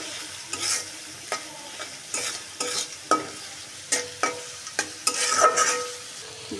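Spice paste of ginger, garlic and cumin with coriander, turmeric and chili powder is stirred and fried in a pan, with repeated scraping strokes in an uneven rhythm over a soft, close sizzle.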